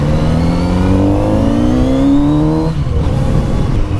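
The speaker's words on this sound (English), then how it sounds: "the exhaust just burps now and then" A Kawasaki Z900RS motorcycle engine revs up steadily under heavy acceleration, pitch rising for a few seconds before easing off, loud and close.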